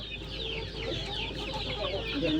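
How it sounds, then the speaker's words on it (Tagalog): A busy flock of native and Red Island farm chickens clucks steadily and overlapping in the countryside, a constant low chatter of many hens at moderate distance with no talking. "Oh, ayan ang daming manok."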